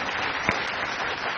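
A quiz-show audience claps steadily for a team, dense and continuous applause with one slightly sharper clap near the middle, no talk over it.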